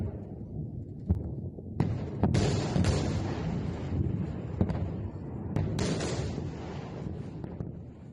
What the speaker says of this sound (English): Let's listen to some of the audio of some of the bombs going off.